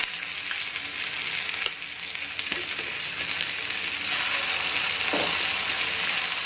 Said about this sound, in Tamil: நான் எல்லா பக்கமும் எண்ணெய் ஸ்ப்ரெட் ஆகிற மாதிரி தவாவை வந்து நான் இப்படி ஆட்டி தரேன்.